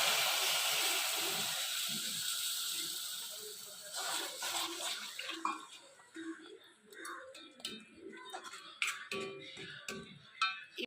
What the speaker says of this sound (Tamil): இப்போ இந்த புளி தண்ணியை இதில் ஊற்றி